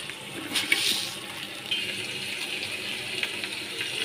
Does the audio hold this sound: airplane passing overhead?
no